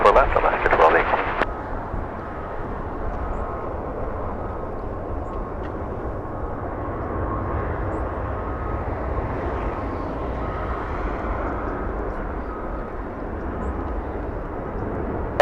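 A United airliner roars past at Los Angeles International Airport. The steady, broad jet rumble holds throughout, louder for the first moment, with radio voices over it.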